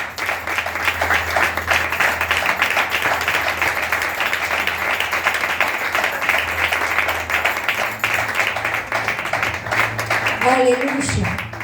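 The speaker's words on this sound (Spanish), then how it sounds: "hágale fuerte las palmas a aquel que vive" Church congregation applauding during a Christian sermon, a steady dense wash of clapping that continues throughout, with a brief voice rising near the end.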